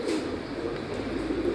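Teddy pigeons coo in a low, continuous, throaty murmur close by, a steady burble of overlapping calls with no talk over it.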